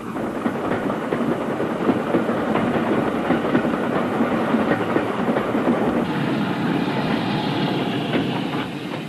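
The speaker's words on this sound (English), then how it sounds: "There are other steam locomotives still running in America" A steam train runs on the tracks through scenic country, a continuous, dense rumble of wheels and rolling stock heard fairly close and without voices.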